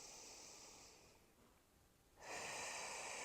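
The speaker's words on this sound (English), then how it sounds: "Deep breath in." A quiet, deep breath drawn in through the nose during a relaxation exercise: a soft airy inhale, a lull, then a second, fuller breath. Close and faint, with no talking.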